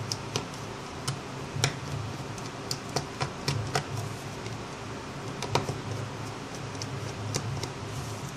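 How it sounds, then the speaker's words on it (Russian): Small bolts being unscrewed from a Samsung Galaxy S II GT-I9100 phone during a repair, a series of faint, sharp clicks and ticks at irregular intervals, close up over a quiet background hum. "Откручиваем болты."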